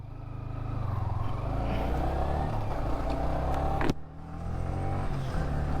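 Yamaha R15 V3 motorcycle engine running steadily at close range, a continuous loud droning hum with a brief sharp click near the middle, no voices.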